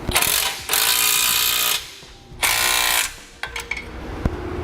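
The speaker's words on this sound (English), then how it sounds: "Now using a 3/4 inch socket and wrench, we can begin to tighten up all of our hardware." Fast clicking ratchet wrench with a 3/4 inch socket tightening base plate hardware on a 2015 Chevrolet, heard in two loud sustained cranking runs followed by a few short clicks and clanks.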